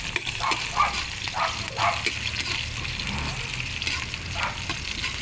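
Onion and garlic sizzle and fry together in a hot pan, a steady crackling hiss throughout with occasional sharper pops and light stirring.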